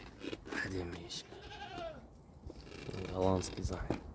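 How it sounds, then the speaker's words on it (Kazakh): A purebred Dutch Saanen dairy goat bleats in a wavering call near the middle, with a person talking over and around it throughout. "Өте әдемі ешкі."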